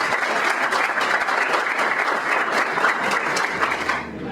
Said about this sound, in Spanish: Les pido un gran aplauso para el licenciado Juan José Miguel.